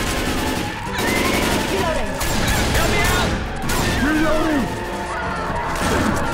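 Dense gunfire in Left 4 Dead 2 with a Mario World mod, rapid overlapping shots and crashes mixed with game sound effects and music, with voices shouting over the shooting.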